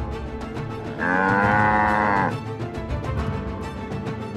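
A single cow gives one long, loud moo lasting just over a second, with quieter background noise before and after.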